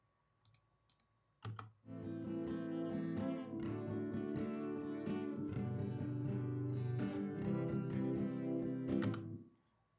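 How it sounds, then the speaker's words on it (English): Strummed acoustic guitar chords repeat in a steady pattern after a few faint clicks, ringing full and close before stopping abruptly. "we have an acoustic guitar, which sounds like this, which is again 4 chords over and over again"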